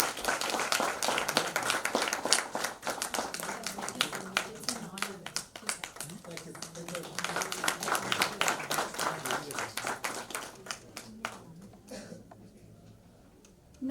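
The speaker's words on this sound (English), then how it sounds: "Please give him a huge round of applause." Audience applause at a book launch ceremony, a dense wash of many hands clapping that holds steady for about twelve seconds and then tapers off, with voices mingling underneath.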